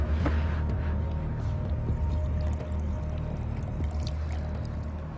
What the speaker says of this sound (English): Allow the mixture to cool before pouring it into the tank.